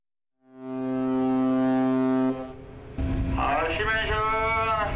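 A 1,400-ton tuna purse seiner departing port sounds a long, loud, steady horn blast lasting about two seconds, followed by voices and rushing noise.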